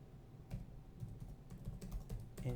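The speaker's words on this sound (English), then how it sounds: "you need to type in the IDs" Computer keyboard typing, a few scattered bursts of keystrokes at close range, fairly quiet, with no voices.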